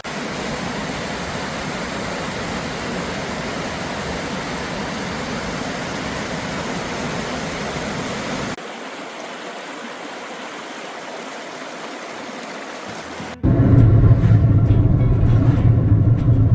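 Loud, steady rush of a fast-flowing stream in Bird Valley, Alaska, a continuous broadband roar that dips briefly before surging back even louder and closer.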